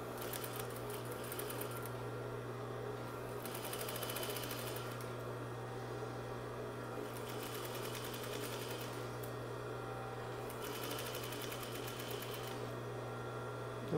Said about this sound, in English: sink that needle so that I can lift my presser foot and turn, and then I can keep going so that I don't have to stop and start that stitch.